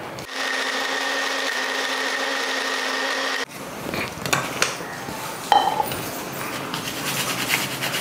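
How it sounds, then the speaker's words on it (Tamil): A mixer grinder whirs at a steady, loud, even pitch while grinding palm tuber flour for about three seconds, then cuts off, followed by lighter clattering and handling of the jar and lid nearby. "நான் இப்போதைக்கு மிக்சியில் அரைச்சி காட்டுறேன்."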